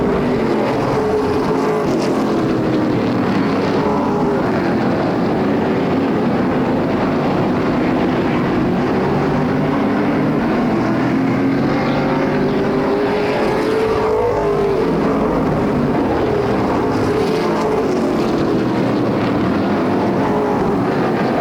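Pro late model race cars lapping Flamboro Speedway: a continuous, loud roar of multiple engines swelling and fading as cars pass, dense and unbroken throughout.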